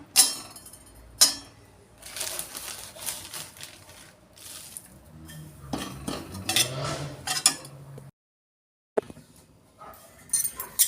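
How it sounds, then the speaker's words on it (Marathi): Dry date powder is roasted in a pan and stirred with a metal spoon, producing repeated close scraping and clinking strokes with a brief silent gap near the end. "आता खारीक पावडर आपण भाजायला घेऊया"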